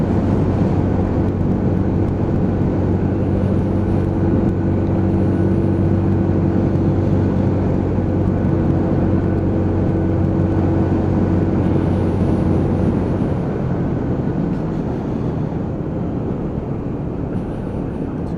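Lexmoto ZSB motorcycle slowing under hard combined back braking, a steady loud engine drone with wind rush that drops in pitch and thins out near the end as the bike pulls down.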